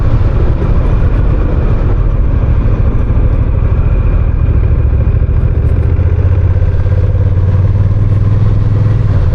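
A 2024 Honda Rebel 1100T cruiser motorcycle engine drones loudly and steadily while riding in standard ride mode, a deep continuous rumble with road and wind noise, the pitch lifting slightly near the end.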